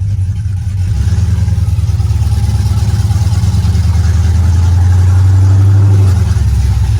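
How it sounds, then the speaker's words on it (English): A car fitted with a swapped-in LS V8 on its first test drive rumbles loudly and steadily from inside the cabin, the low engine drone holding firm and rising briefly in pitch before easing off. "Alright guys, first test drive."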